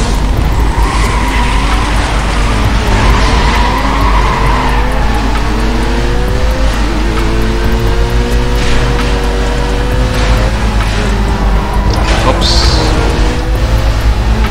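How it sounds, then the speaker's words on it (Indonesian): A BMW M3 GTR in the racing game Need for Speed Most Wanted roars continuously at high revs, with gear shifts and tire squeal and skidding over the engine, loud and steady throughout. "Kita pakai mobil BMW M3 GTR di sini."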